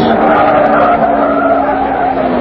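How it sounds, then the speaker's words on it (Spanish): Radio drama sound effect of a car lurching over rocks through a muddy road during a storm at night, heard as a loud, continuous engine drone with a grinding, skidding rumble and no voices. "El auto da tumbos en aquel lodazal y por encima de pedruscos."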